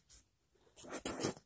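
A math problem being handwritten: short scratchy strokes of writing, close and fairly quiet, with a brief stroke followed by two longer bursts near the end.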